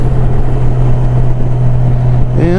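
A Valkyrie motorcycle engine drones steadily while riding on a fall road trip, a loud low hum mixed with rushing wind noise, continuous and close throughout the short stretch.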